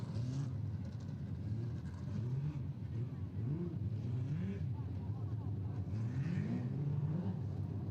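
A midget race car at the Ellesmere speedway sprintcar meeting revs through the Dunsandel turn, its engine note rising and falling in repeated throttle blips beneath a steady rumble of other machines, with a commentator talking over it.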